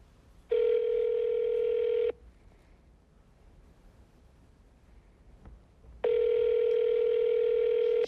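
A telephone line gives two steady buzzing tones of about one and a half and two seconds each, separated by a quiet gap with faint clicks, loud and close.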